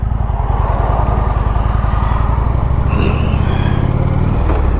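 Motorcycle engine running loud and close with a steady low rumble at the start of a ride, the pitch rising slightly toward the end as it revs.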